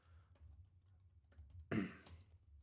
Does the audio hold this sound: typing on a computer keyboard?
yes